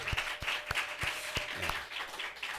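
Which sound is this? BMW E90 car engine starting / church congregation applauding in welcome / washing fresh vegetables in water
church congregation applauding in welcome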